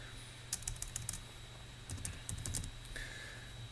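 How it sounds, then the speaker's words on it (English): Quiet keystrokes on a computer keyboard while a command is entered, coming in two short bursts of rapid clicks with a steady electrical hum behind them and no voice. "So by typing just one command like eb create,"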